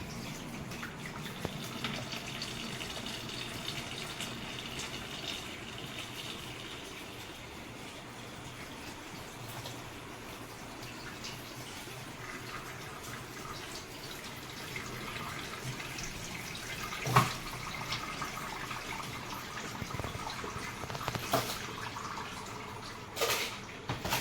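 Water pours from a container into an air cooler's tank, a soft continuous splashing and trickling that runs steadily at low volume with a few brief louder knocks near the end.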